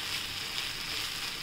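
Roasted corn poha being sautéed in a pan for upma, giving a steady, even sizzle that holds for the whole short stretch with no voices.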